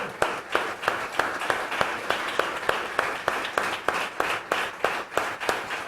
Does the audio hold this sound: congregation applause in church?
yes